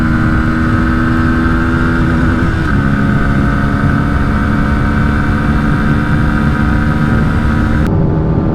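A 2024 Pulsar NS160 motorcycle in fourth gear during a drag race against a TVS Apache 160 2V, giving a loud, steady, close engine drone that holds its pitch with a slight shift partway through and no talk over it.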